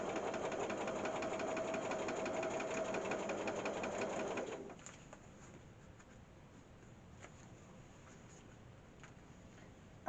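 A sewing machine hums through a straight stitch with a fast, even needle chatter for about four seconds, then stops, leaving only faint room noise and a few soft clicks.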